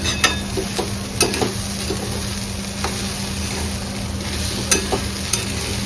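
Besan mixture sautéing in a pan for a simple dry besan dish, with a constant close sizzle broken by sharp spatula scrapes and taps at irregular intervals.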